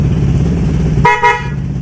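A Bosch snail horn fitted to a Honda PCX160 motorcycle blares in one loud, short two-part honk close by, following a low engine rumble.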